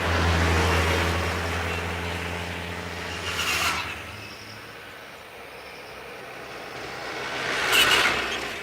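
Roadside traffic swells and fades as vehicles, including heavy trucks carrying rice, pass close by one after another, each rumbling approach rising to a loud whoosh before receding, with quieter gaps between.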